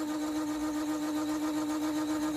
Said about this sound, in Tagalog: Saan na kung electric fan ay kasaba ba ani?